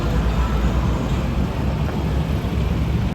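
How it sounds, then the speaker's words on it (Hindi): Road traffic noise picked up through the microphone of Boat Rockerz Bluetooth headphones, a steady, loud, broadband roar of passing cars and heavy vehicles that continues without a break and with no voice over it. "पहले एक बार आप बाहर का नॉइज सुनिए, पीछे ट्रैफिक का अच्छा खासा नॉइज आ रहा है।"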